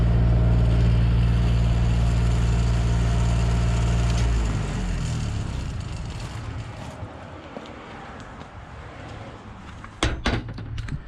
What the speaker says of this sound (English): You go turn the welder on.